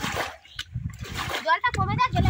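Water runs down from higher ground and splashes in a wetland fishing spot, a choppy splattering wash with gurgles, heard close under a person talking throughout.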